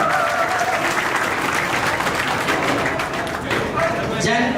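A school reunion crowd claps loudly for a teacher, dense continuous applause holding steady from start to finish, close and full.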